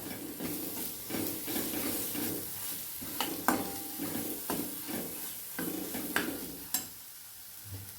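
A spoon works a potato mixture seasoned with garam masala around a pan in regular scraping strokes over a low, continuous sizzle, with a few sharper knocks against the pan.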